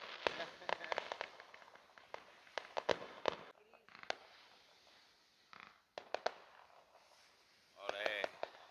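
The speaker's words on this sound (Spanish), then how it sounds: "el cielo que te han puesto petardos y todo" Night-time fireworks and firecrackers for the Virgen del Carmen festivities snap and bang in scattered bursts, some in quick clusters, heard from a distance with brief pauses and faint voices between.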